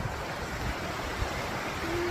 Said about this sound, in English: Another lovely little waterfall though.